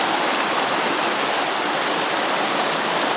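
Halt's Creek flows in a steady, close, broadband rush of moving water near an old coal mine site, continuous and even, with no voices over it.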